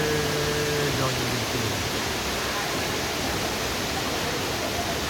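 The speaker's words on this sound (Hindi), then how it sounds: "बहुत खूबसूरत वाटरफॉल है" Lulu waterfall in Bali, heard as a loud, steady roar of falling water that fills the whole scene. There is no break in the rush from start to finish.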